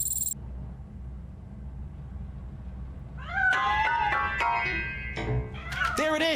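In a video game, a cat lets out several sharp, rising meows in quick succession after a stretch of quiet low rumble, the calls loud and close with one brief click near the start.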